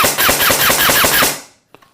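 A rapid burst of automatic fire from an Amoeba M4 (AM-008) airsoft rifle, about a dozen sharp shots in quick succession, loud and close, then stopping with a couple of faint clicks.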